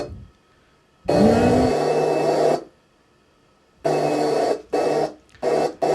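A voice mimics a vacuum cleaner, a loud broadband whirring that starts, stops, then cuts in and out in several short bursts.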